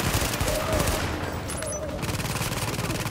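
Rapid gunfire rattles in the video game The Division, a dense fusillade of close shots that breaks off briefly in the middle, then resumes in a quick steady burst.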